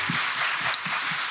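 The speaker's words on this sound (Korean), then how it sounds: "우리 하나님께 감사 영광의 박수 한번 크게 드립니다" A church congregation gives a brief burst of steady, diffuse clapping that fills the room evenly, with no voices over it.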